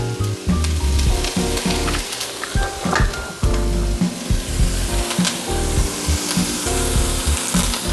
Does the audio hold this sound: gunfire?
no